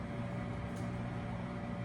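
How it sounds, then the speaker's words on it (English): A microwave oven running, heating food on a plate, giving a steady low electrical hum with a faint even whir, continuous and unchanging from start to end. "Okay, so stop the microwave."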